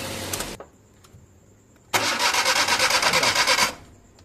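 A Suzuki K6A engine in a DA64V van, misfiring, shaking and failing a compression test, cranks on a start attempt: a short burst, a pause, then about two seconds of steady rhythmic cranking, loud and close with no voices.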